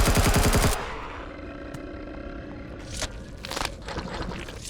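Gunfire in the space survival game Empyrion Galactic Survival, a loud rapid burst of automatic shots at the start followed by scattered quieter impacts and scraping sounds.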